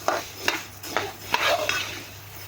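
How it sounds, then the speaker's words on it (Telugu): Spices being stirred and roasted in a pan for a vegetable curry masala, a rhythmic series of spoon scrapes and clinks against the metal pan over a faint low sizzle. "ఇలా కలుపుకుంటూ వేయించుకోండి"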